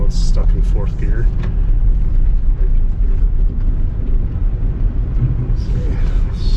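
A 2004 VW Passat TDI diesel with a new turbo, stuck in fourth gear, pulls under throttle with a steady loud engine drone and rumble heard from inside the car, while voices talk over it throughout.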